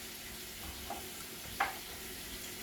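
Pork steaks frying in brown butter, a faint even sizzle in the pan with a couple of small sharp spits or clicks, quiet and without talk.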